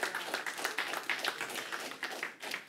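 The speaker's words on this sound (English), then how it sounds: "let's give the Lord a great big hand clap of praise" A church congregation gives a hand clap of praise: many hands clapping in a dense, sustained, fairly even ovation that sounds somewhat distant and soft, with no clear voices over it.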